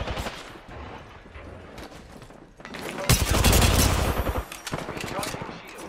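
Rapid video game gunfire in bursts, first scattered shots and then a loud sustained volley of automatic fire with heavy booming weight, up close.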